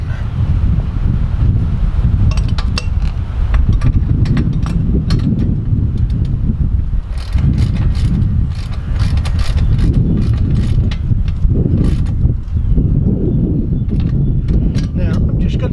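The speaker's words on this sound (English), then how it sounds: "Big wrench." A big ratchet wrench snugs bolts on a motorcycle being rebuilt, with steady ratcheting clicks and mechanical clatter running close up throughout, and a voice talking at times.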